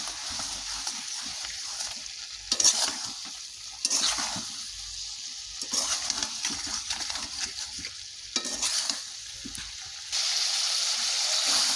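A cauliflower and potato curry with bay leaves and a splash of water is stirred in a frying pan, giving repeated bursts of hissing sizzle and scraping between quieter pauses, close and fairly loud.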